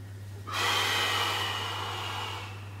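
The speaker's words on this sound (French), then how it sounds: "Quand je fais dos rond, je souffle. Dos creux, j'inspire." A long breath is drawn in or pushed out during a rounded-back, hollow-back spinal exercise. It begins abruptly and holds a steady airy rush for about two seconds, close and soft, over a constant low hum, with no talking.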